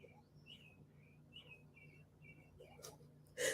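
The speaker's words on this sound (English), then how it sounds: "She got sounds of nature playing on her little thing." Birdsong plays from a small device's nature-sounds track, a string of clear, thin chirps and whistles repeating at a steady pace, faint and tinny against a quiet room hum, with a brief louder rustle at the end.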